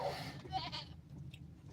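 Goats bleating in a yard, a couple of wavering calls over steady low background rumble, moderately distant and fairly quiet.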